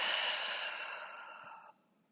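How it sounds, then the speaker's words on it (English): A single long, breathy exhale through an open mouth during a yoga breathing exercise, close and fairly soft, fading gradually before stopping abruptly into quiet. "Open mouth, exhale."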